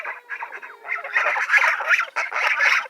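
A flock of nearly full-grown geese on a farm pasture honks loudly and close, with many overlapping calls that build into a busy, continuous chorus.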